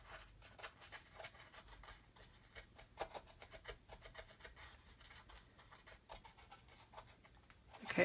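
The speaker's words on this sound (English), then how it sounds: "You can just come along and put your pigments in and just rub them in like so." A finger rubs weathering pigments into a matte model surface, producing faint, close scratchy strokes in an uneven back-and-forth rhythm with no talking.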